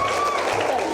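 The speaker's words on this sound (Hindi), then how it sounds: "सो एक बार तालियां बजाएं इनके लिए।" Applause for a child named Anil at a Holi event with schoolchildren, a short burst of dense clapping with voices mixed in underneath.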